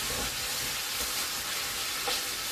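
Okra, country ham and neck bones cook in a pan on an electric stove, giving a continuous close, loud sizzle and hiss with faint stirring, and no one speaks.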